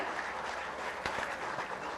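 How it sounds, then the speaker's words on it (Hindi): Audience clapping at a government appointment letter distribution ceremony in Jharkhand, a continuous, fairly distant wash of hands with a few sharper claps standing out, recorded at low level. "जोरदार तालियां होनी चाहिए।"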